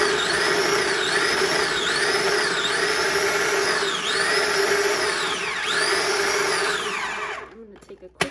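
Food processor chopping garlic and ginger, a loud continuous motor whir with the pitch repeatedly dipping and recovering as the blades hit the pieces, running about seven seconds before stopping abruptly.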